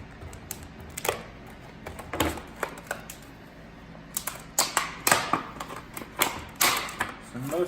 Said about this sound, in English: Let's just go ahead and cut this open with the literal dullest knife in the whole world.